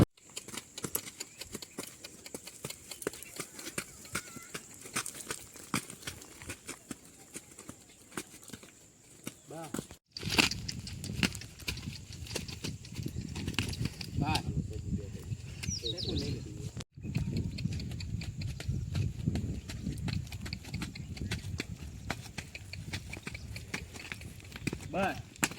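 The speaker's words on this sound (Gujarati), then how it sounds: "ભટભાઈ બેસી ગયા ઘોડા ઉપર, વાડી બાજુ જાય છે." A ridden horse heads toward a farm field, its hooves giving soft, uneven clip-clop steps under people talking, with a couple of abrupt breaks in the sound.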